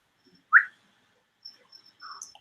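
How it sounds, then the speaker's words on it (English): A person whistles at a dog chewing a water bottle: one short, sharp whistle blast followed after a pause by a few fainter, shorter whistled chirps in an otherwise quiet room. "Yeah, I did whistle at my dog."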